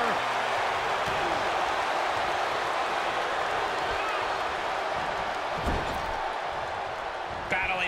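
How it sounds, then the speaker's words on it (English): A loud, steady roar of an arena crowd in the WWE 2K22 wrestling video game during a Royal Rumble match, holding a dense, unbroken wash of noise throughout. "The sound of this crowd is deafening"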